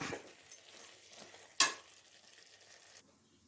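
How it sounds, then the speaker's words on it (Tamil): Andhra-style chicken kurma masala sautés in oil with a faint, low sizzle, broken by a few sharp clicks and scrapes of a spoon against the pan, one louder clink near the middle. "இப்போ பாருங்கள், 2 நிமிஷமாக நான் நல்லா வதக்கிட்டு இருக்கிறேன்"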